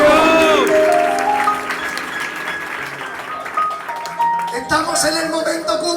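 Church congregation applauding during a Spanish-language anniversary service, steady clapping under a loud electronic keyboard chord and a speaking voice, swelling louder toward the end.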